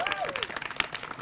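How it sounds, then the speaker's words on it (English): A short burst of audience applause for Kelly at a Howard County Executive podium event on a housing master plan, with a rising vocal cheer over the clapping and a voice talking through it. "Everybody, just give Kelly a big round of applause."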